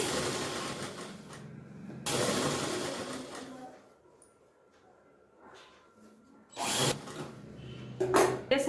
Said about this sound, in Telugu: ఇక్కడ నుంచి ఇది స్టిచ్ చేసేసుకోవాలి